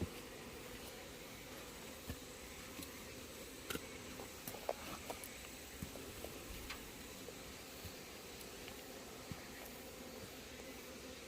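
A soft, steady insect buzz of hornets around a sugar-water hornet trap fills the air, with faint scattered clicks and taps over the low drone.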